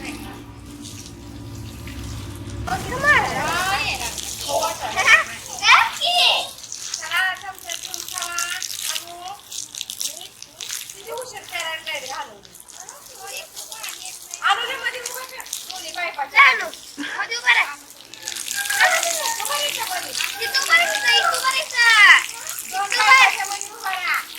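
Running water splashes and trickles steadily, like a tap into a basin, while a child plays in it, with light voices and chatter over the top.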